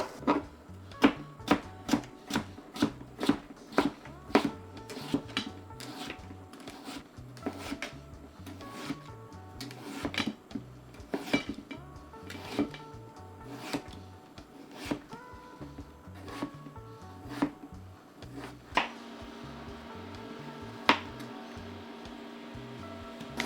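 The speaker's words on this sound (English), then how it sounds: "Now I'm gonna cut up the pumpkin. You wanna get some nice thin slices." A knife cuts a pumpkin into thin slices on a board with a steady run of crisp, evenly spaced chops, close and clear, continuing without any talk.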